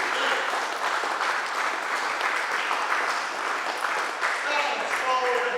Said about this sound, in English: Can I get a clap for Mother Africa?